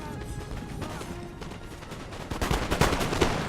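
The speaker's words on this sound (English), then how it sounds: "Man, look at that line of gunfire." Massed musket volleys in a Napoleonic-era battle from the video game Napoleon: Total War crackle as a continuous rolling fusillade, with scattered sharp reports that thicken and grow louder toward the end.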